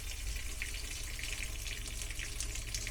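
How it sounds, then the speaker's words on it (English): Water runs steadily from a faucet in a 2026 Brinkley IX-23X travel trailer during spring dewinterizing, a constant hissing stream, close by and unbroken, with no voices. "The first faucet always takes the longest."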